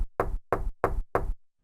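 Four evenly spaced hollow knocks on a watermelon, close and loud, with silence between each thump and nothing else heard.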